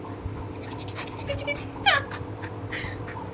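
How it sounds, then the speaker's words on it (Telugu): A dog whimpers and sniffs close by, with a brief high yelp in the middle, over quiet room background. "కుక్క వచ్చింది."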